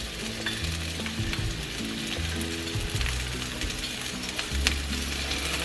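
Potatoes frying in high smoke point oil give a steady, close crackling sizzle with occasional stirring clatter, and no one talks.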